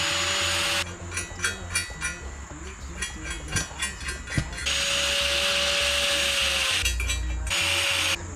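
Metal being cut on a Nissan Stagea RB25DET turbo manifold with a power tool: a loud, steady grinding whine in long bursts, separated by a stretch of clattering, uneven cutting and handling noise.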